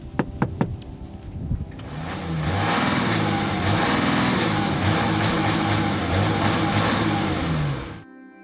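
An Audi Q8 50 TDI with a 3-liter diesel engine starts after a few sharp clicks, then revs and holds a steady, throaty drone for several seconds before cutting off abruptly.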